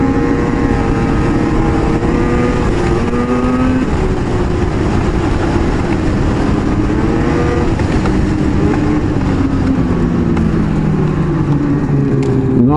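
A 2018 Ski-Doo XRS 850 Rev Gen4 snowmobile drones loud and steady while riding through low spring snow, its engine pitch rising and falling with throttle changes, close and continuous with no voices.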